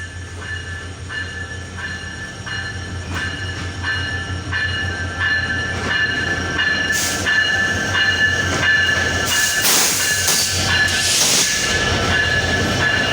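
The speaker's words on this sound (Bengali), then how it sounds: "আন্তনগর ডাউন চিত্রা এক্সপ্রেস ট্রেনটি বর্তমানে" The Chitra Express intercity train from Dhaka to Khulna rolls steadily through Kotchandpur station at night, a loud continuous rumble with clattering wheels, rising squeals and hissing bursts toward the end.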